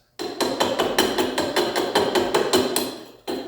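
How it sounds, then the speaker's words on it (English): A small chisel works hardened rubber off a metal rear suspension part from a 911T, giving a rapid, steady run of sharp metallic knocks and scrapes, close up, with no talking. "I'm gonna try to scrape off as much as I can with a little chisel"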